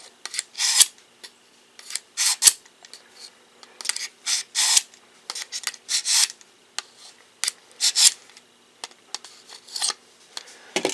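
A pull-through knife and tool sharpener works the edge of a cheap Harbor Freight hatchet, giving a series of short, bright rasping strokes in an uneven rhythm, each pass separated by brief pauses, close and fairly loud with no talking.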